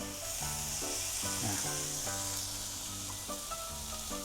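Beef searing on a hot grill over high heat for a crisp crust, a steady sizzling hiss running throughout beneath a layer of tonal background music.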